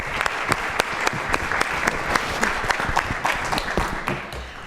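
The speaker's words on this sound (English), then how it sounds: "We'll just do another round of applause for them." Audience applause for a panel at the Housing Is Summit 2019 conference: dense, steady clapping from a crowd with sharp individual claps standing out, sustained for several seconds at close range.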